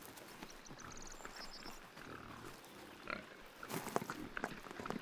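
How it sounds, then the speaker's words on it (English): Black Iberian pigs foraging for acorns outdoors, with soft rustling, scattered snuffles and grunts, and a few sharper crunches and movements toward the end, fairly quiet and distant. "The black Iberian pigs can be traced back to ancient times."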